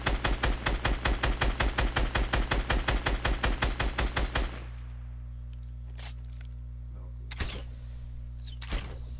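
Fortnite video game gunfire, including a heavy sniper rifle, opens with a fast, evenly spaced volley of loud shots lasting several seconds. The firing stops, leaving a steady low hum broken by a few isolated sharp cracks.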